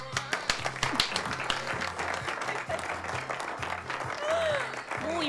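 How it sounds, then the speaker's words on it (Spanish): An audience at a live stream applauds, a burst of sharp claps up front that thins into quieter scattered clapping, with faint chatter and a few squeaky whistle-like tones in the background. "Un aplauso para Sofía."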